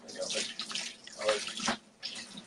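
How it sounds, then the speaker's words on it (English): Water pours from a container into a bucket during plaster mold making, a steady splashing, gurgling stream with brief pauses, close up and moderately loud. "here, JP, come pour me some water in this. I'm pouring it"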